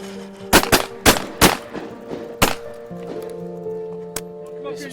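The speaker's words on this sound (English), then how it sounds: "Some skeet shooting, having a great time. Shooting at clays, I love it." Shotguns fire at clay targets during skeet shooting at an outdoor gala event, with about six sharp, loud blasts in an irregular sequence and a quieter distant shot later, over a background murmur.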